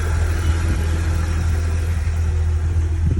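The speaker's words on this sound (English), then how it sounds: "Car started, no alarms, nothing going on, good." A 1997 Jeep Grand Cherokee engine idles steadily just after starting, a low, even rumble that holds close and constant with no revving or voices.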